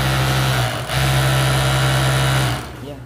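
An overlock sewing machine runs after a capacitor repair with a loud, steady motor whir. It dips briefly near the start, then hums evenly before winding down at the end.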